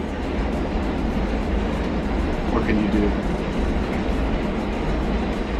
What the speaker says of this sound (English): Train, train is going by.